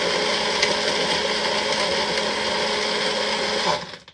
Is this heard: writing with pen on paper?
no